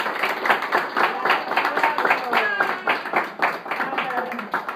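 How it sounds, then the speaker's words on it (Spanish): People clap in rhythm for a speaker's daughter at a 100th birthday gathering, the claps loud and close under ongoing talk and festive background voices. "queremos darle gracias y un aplauso a mi hija"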